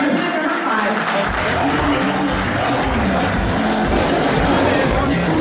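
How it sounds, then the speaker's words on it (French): Audience applause for a contestant at the 2013 Miss Africa Switzerland beauty pageant, a dense, steady clapping from a crowd that swells in after a quiet first second and continues loudly to the end. "Please applaud our candidate number"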